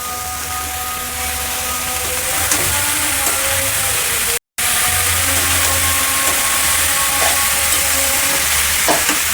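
Grated cabbage fries in a pan with green chilli for a vegetarian Bengali chop mixture, giving a steady, close sizzle that runs throughout, with faint stirring scrapes and one brief cut to silence midway.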